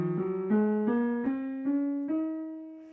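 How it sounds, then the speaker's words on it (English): Eight piano notes climb step by step in an E Dorian scale, each struck cleanly and sustained into the next at a steady, moderate pace, close and alone with no talking. "So this is an E Dorian scale,"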